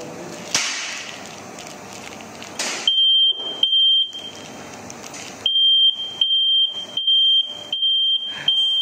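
Anti-theft alarm on a Yamaha X-Ride motorcycle sounds a loud, steady high-pitched tone in repeated bursts, broken by short gaps and clattering handling noise.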